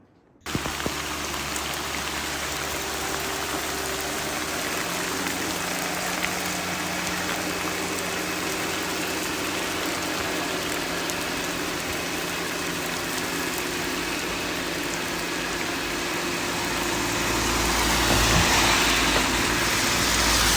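Steady, dense rainfall hisses continuously on a ghat road near Goa, swelling louder toward the end, with a low rumble underneath and no voices.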